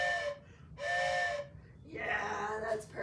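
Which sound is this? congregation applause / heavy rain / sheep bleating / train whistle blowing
train whistle blowing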